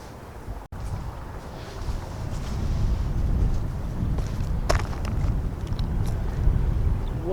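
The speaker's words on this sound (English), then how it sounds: "it's a little windy out here" Wind buffets the microphone at a Nebraska lake while carp fishing, a rumbling low roar that swells and gusts steadily, with a few faint clicks and knocks in the mix.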